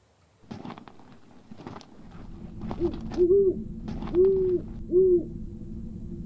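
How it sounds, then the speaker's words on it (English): An owl in the Colossal Cave video game, set by a stream in a gentle valley, gives three clear, moderately loud hoots in a slow sequence over a low ambient bed. "A large owl seems to be watching you."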